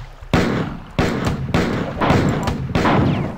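Four heavy, sharp gunshots ring out from a weapon in the shooter game Marathon 2: Durandal, spaced unevenly, each cracking loud and close before a short decaying echo.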